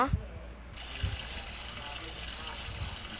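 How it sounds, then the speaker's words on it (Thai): Shower water running in the Roblox game Brookhaven, a steady hiss of spray that fills the clip at moderate level after a brief start, with faint game sounds beneath. "เดี๋ยวฉันขออาบน้ำก่อนนะ"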